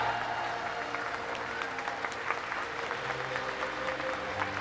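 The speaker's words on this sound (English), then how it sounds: "the crowd getting right behind her in these final few meters" Steady applause from a crowd at a para swimming race at the ASEAN Para Games, continuous and moderately distant, with faint announcer-like voices underneath and no pauses.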